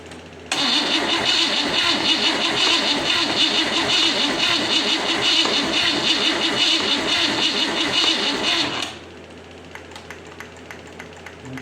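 A 1960 Cadillac 390 V8, started for the first time in three years, cranks and catches into a loud, steady close-up running roar for about eight seconds before dropping away to quiet.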